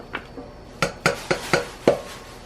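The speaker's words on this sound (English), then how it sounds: "I cut up the peaches and we're going to put it in the saucepan" Cut peaches go into a saucepan with a quick run of about six sharp metallic clinks and knocks, close and moderately loud, with no talking.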